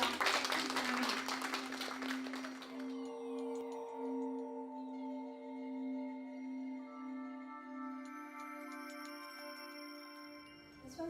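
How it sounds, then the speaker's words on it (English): An audience at a live medical intuitive session claps briefly, with the applause fading quickly while a clear, sustained ringing tone carries on beneath and after it. "Please round of applause. One more time."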